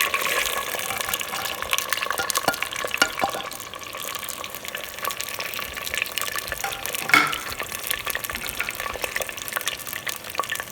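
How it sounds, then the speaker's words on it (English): Onions fry in leftover oil in a clay pot at a village outdoor cooking setup, giving a close crackling sizzle with occasional stirring scrapes throughout. "the remaining oil, we will just add onions to it."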